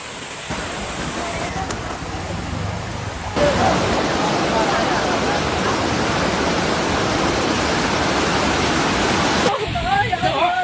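Floodwater from an overflowing river in Pandeglang, Indonesia, rushing as a loud, continuous roar that swells partway through and carries on steadily under talk.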